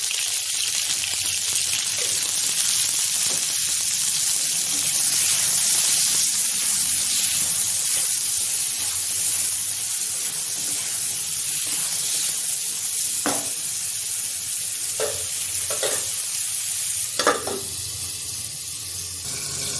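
Pointed gourd and potato frying with salt and turmeric, giving a steady, loud sizzle throughout, with a few clinks of a spatula near the end.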